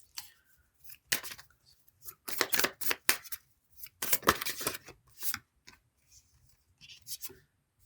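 Tarot cards are handled and shuffled close up, in short irregular bursts of riffling and sliding with quiet gaps between them.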